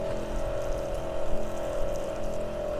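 12V soft wash pump running at 8.3 litres a minute and 70 psi, spraying water through a 300 nozzle: a steady motor hum under a constant hiss of spray, close and moderately loud.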